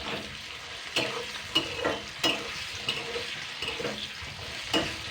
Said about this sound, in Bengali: এবার আমি আলু ভাজার মতন করে ভেজে নেব।